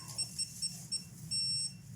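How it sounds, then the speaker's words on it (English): A hotel room safe keypad gives a few short electronic beeps, then one longer steady beep, faint and close, with no voices. "2 stars. 1 long beep."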